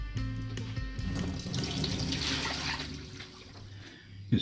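Tap water running in a kitchen sink as cut potatoes are rinsed to wash off starch, a steady close gush that swells then eases off.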